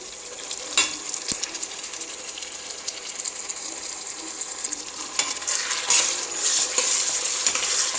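Tomato paste being stirred into a pot of Nigerian tomato rice stew, a steady wet scraping and sizzling churn with occasional sharp clinks of the spoon against the pot, close and continuous without talk.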